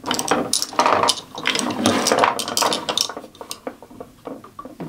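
A Craftsman socket driver ratchet clicks rapidly and loudly up close, bursts of metallic pawl ticking mixed with light clinks of tools being handled, slowing and thinning toward the end.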